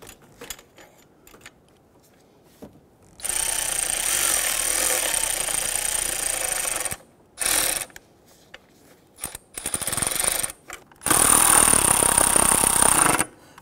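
Wrench tightening two 10 mm bolts on the ignition coil of a 2005-2021 Nissan Frontier 4.0L V6, heard as three bursts of close, loud ratcheting clicks separated by short pauses, with no talk.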